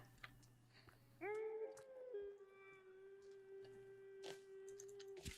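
A creature in the Sons of the Forest video game lets out a long, sustained, wavering howl that rises and then holds steady over game ambience, with a few brief clicks.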